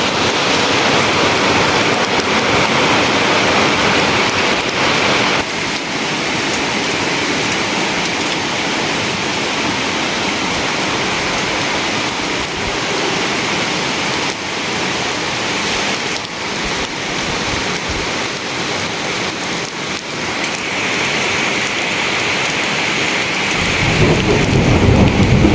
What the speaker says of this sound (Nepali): पानी पर्नु थाल्यो डरलाग्दो